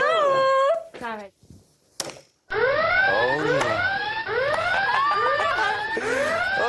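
The secrets alarm buzzer on the Secret Story reality TV set blares in rising and falling siren-like sweeps, loud and repeated, broken by brief pauses and mixed with voices and laughter.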